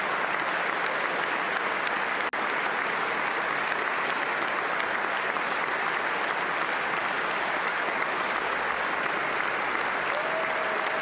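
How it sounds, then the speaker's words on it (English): A late-night comedy show's studio audience applauds in steady, dense clapping that holds at an even level for about eleven seconds, with no voices over it. "They're still clapping."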